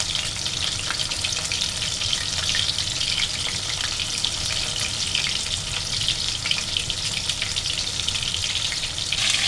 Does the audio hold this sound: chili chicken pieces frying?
yes